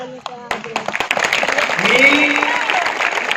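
Scattered claps build into fuller applause from a crowd at a Shiv Jayanti celebration, with a faint voice or tone mixed in beneath the clapping.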